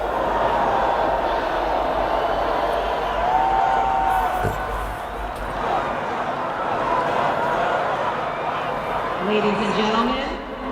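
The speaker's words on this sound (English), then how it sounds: "you can hear the crowd getting a lot bigger and a lot more energized" A vast outdoor crowd at the 2017 United States presidential inauguration of Donald J. Trump roars continuously, a broad distant wash of cheering and shouting with a few whoops rising out of it.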